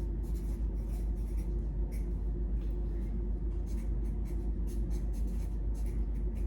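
Fast handwriting with pen on paper, a steady scratchy stream of quick strokes and short pauses over a constant low background hum, close and clear with no talking.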